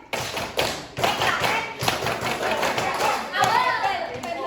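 A classroom of students performs a rhythmic group clap during a microteaching lesson, a burst of sharp, close claps and thumps in quick patterns with voices calling out over them.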